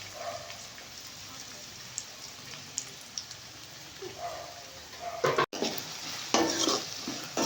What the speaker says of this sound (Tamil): எண்ணெய் காஞ்சிட்டு இனிமே வெட்டி வச்ச உள்ளியும் பச்சை மலையும் உள்ள போட போறோம்